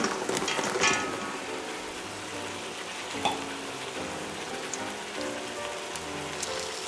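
Onions and carrots sautéing in an Instant Pot, a steady close sizzle and crackle with occasional stirring clatter throughout, no voices.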